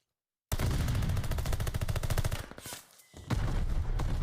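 Call of Duty gunfight audio from a Major III qualifier match between Riyadh Falcons and Royal Ravens: loud, rapid automatic bursts rattle for two seconds, dip into a brief lull, then resume just as hard.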